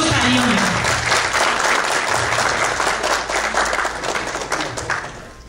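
Enthusiastic audience applause greets a poet coming on stage at an international mushaira in Richardson, Texas: a steady, loud wash of many hands clapping that tapers off toward the end, with a voice briefly audible beneath it.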